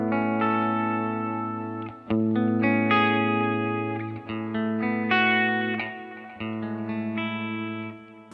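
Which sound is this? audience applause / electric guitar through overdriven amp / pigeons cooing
electric guitar through overdriven amp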